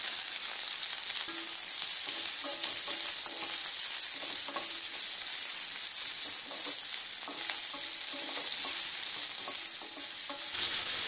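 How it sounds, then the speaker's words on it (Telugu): Onions fry in a pan for a taro-leaf curry, producing a constant, even hiss of sizzling oil with faint stirring clicks and no voices. "ఆనియన్స్ మంచిగా వేగాలి. ఆనియన్స్ మంచిగా వేగాయి."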